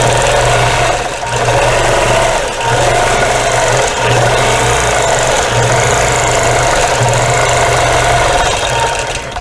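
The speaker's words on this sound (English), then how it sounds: "I've got the machine set on stitch regulated mode, and it's at 12 stitches per inch." A quilting machine runs in stitch regulated mode at 12 stitches per inch, a loud, steady mechanical whir with a fast rhythmic chatter continuing without a break.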